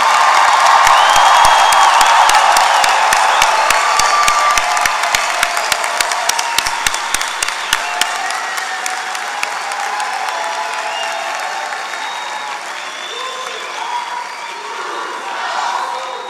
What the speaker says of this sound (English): Everyone, please join me in a round of applause for our newest alumni of the Cullen College of Engineering.